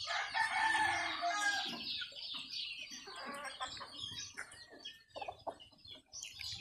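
Roosters crow and chickens cluck at a game farm in Canlaon, Negros Oriental; several loud, overlapping crows open the clip, then scattered clucks and calls continue nearby.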